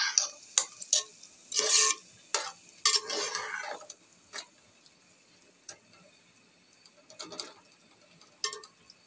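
Beef being stirred into masala for Delhi qorma: a spoon scrapes and clacks in short irregular bursts against the pot, with faint frying sizzle in the quiet gaps between strokes.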